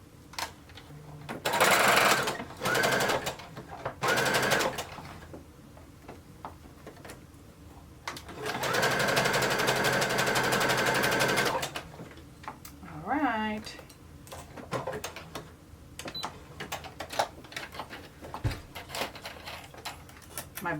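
A sewing machine stitches elastic onto a ruched neckline in several loud whirring runs separated by pauses, with fabric handling clicks and someone talking in between.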